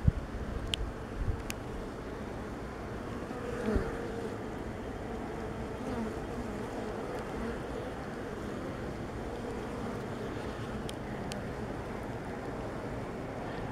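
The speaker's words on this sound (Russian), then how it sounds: "Так с виду видно, что это старые пчелы." Old bees buzz near a hive in the rain, a soft, steady hum beneath a constant wash of rainfall, with a few faint clicks scattered through it.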